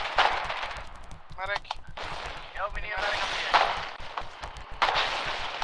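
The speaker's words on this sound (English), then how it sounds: "I'm hearing mortar shots as well." Mortar shots and gunfire in a war video game, a string of sharp bangs and rattling bursts over several seconds with someone talking over them.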